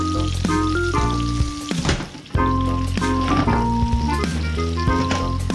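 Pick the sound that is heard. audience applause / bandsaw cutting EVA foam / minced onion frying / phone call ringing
minced onion frying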